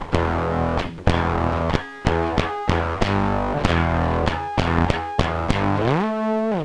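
An electric guitar runs through an Amiga 500 computer used as a fuzz pedal, giving a trashy distortion. About a dozen sharp, buzzing chord hits ring out close and loud, and the last one slides into a wavering note.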